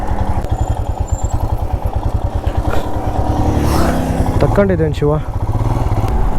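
A motorcycle rides along a road with a steady, pulsing engine putter and wind rumble close by, while someone talks over it and the engine note shifts briefly near the end.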